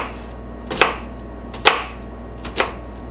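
A knife slicing through a tomato onto a cutting board, three separate crisp thuds spaced roughly a second apart over a low steady background hum, close and fairly quiet.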